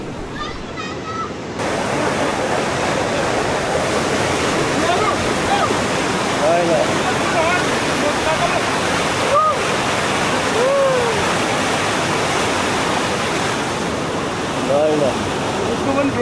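A river at the Pame natural swimming spot near Pokhara rushes in a dense, steady roar that fills the scene throughout. Faint voices sit far under the water noise.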